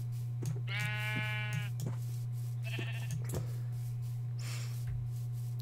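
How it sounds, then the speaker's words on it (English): Sheep bleating in the video game Minecraft, two short wavering bleats about two seconds apart over a steady low background hum, fairly close and clear. "Hey, sheep."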